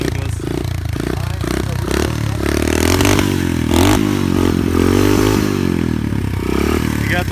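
An SSR 125 pit bike engine revs steadily up and down near the mic with harmonics sweeping and some scraping clatter, while people talk over it.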